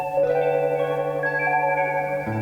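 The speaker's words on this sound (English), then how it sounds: "Just the guitar through that module is like" Sustained electric guitar notes pass through a modular synth module, fully wet, giving a shimmering, chorused effect with layered, warbling overtones ringing out.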